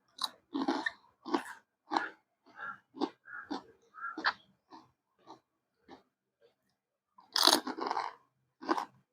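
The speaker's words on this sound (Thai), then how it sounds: "มาค่ะกินข้าวต้มกันค่ะ" Close, wet chewing and slurping while eating rice porridge, a string of short mouth sounds with brief pauses, loud in a quiet room and heard alone.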